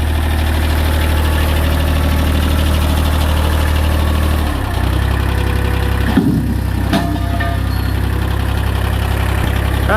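A Kubota compact tractor engine, freshly fitted with a replacement steering box, idles loudly and steadily nearby with a deep rumbling throb, briefly dipping and shifting in tone midway before settling back into its even running.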